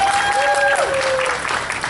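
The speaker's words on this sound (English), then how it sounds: "Give them a big round of applause." Steady applause from an audience at the opening of a new library branch, a dense wash of claps throughout, briefly overlaid by a clear tonal whistle-like sound early on.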